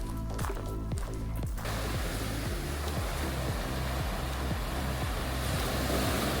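Ocean waves wash steadily onto Unawatuna Beach in Sri Lanka, a loud continuous surf roar with rolling low rumble and no voices.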